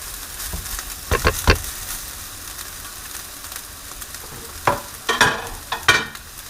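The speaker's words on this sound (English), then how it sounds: "I'm just going to put all my rice in. Just like that." Rice tipped into a hot frying pan for fried rice gives a steady soft sizzle with several louder crackling bursts as grains hit the oil, close by, with no talking.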